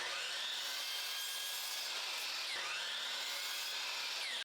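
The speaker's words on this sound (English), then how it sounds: "I took all my pieces to my miter saw and began making my cuts" A miter saw grinds steadily through wood for several seconds, with a brief pause midway before the cut resumes, loud and close.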